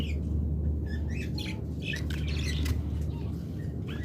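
Caged lovebirds, silver mutation breeding birds, chirp and tweet repeatedly in quick irregular bursts, fairly close, over a constant low background hum.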